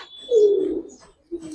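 A red Indian high flyer pigeon gives a clear, close cooing call: one drawn-out throaty coo followed after a brief pause by a shorter second coo, heard alone without speech.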